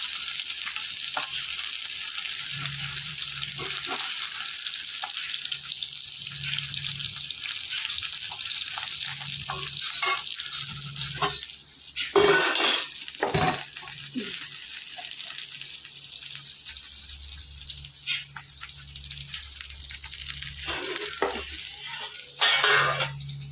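Fish fries in oil left over from frying pointed gourd, giving a steady soft sizzle that runs throughout, with occasional clinks of utensils and louder handling noises in the middle.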